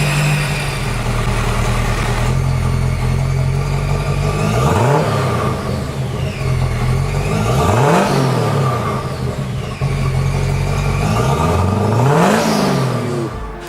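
A 1978 Cadillac Seville engine idles with a deep exhaust rumble, then revs sharply three times, each rise and fall loud and close, heard from the exhaust.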